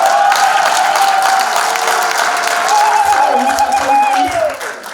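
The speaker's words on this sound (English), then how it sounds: "Give him a hand of applause." Loud, sustained audience applause fills a Chicago hall at an event for Robert Kyagulanyi Ssentamu, dense clapping continuing steadily before tapering off near the end, with faint voices mixed in.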